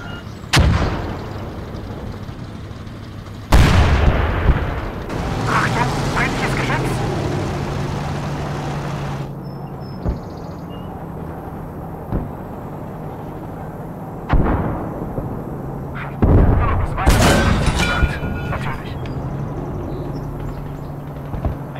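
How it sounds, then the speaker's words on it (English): Tank cannon blasts and gunfire from a battle in the game Call to Arms: Gates of Hell, with several sharp, loud booms spread across the span over a continuous rumble of combat and scattered crackling shots. "I think my other tank is starting to engage."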